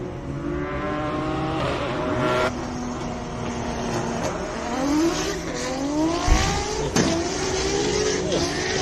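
Race car on the Simola Hillclimb course, a full space-frame build shaped like a GTR, roaring loud and close with rising gear-change sweeps and hard revving throughout, a faint voice underneath.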